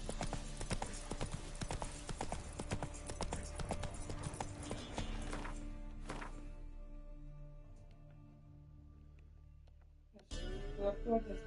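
Horse hooves clip-clop at a walk in The Witcher 3 on PS5, a steady stream of hoofbeats under game music that fade out midway before the music swells again.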